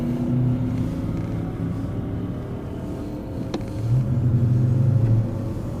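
Jeep 392 V8 engine rumbling close by, with a deep steady idle that swells into a louder rev near the end before settling back.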